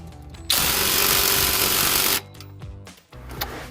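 Power tool tightens an exhaust muffler clamp on a 2019-2023 Chevrolet Silverado with an aFe Apollo GT 3-inch muffler, a loud continuous whirring burst of about a second and a half, then quieter clanks and handling noises.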